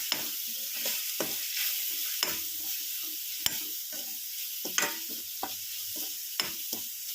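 Turmeric and salt frying in a pan for raw banana curry, a soft continuous sizzle punctuated by sharp scraping knocks of a spatula stirring at irregular intervals, close up and without speech.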